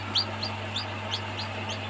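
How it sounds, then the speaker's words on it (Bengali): Faomi chicken chicks chirp nearby in a quick series of about six high, bright peeps at a fairly regular pace over a low steady hum. "কত সুন্দর বাচ্চা ফাওমি মুরগির"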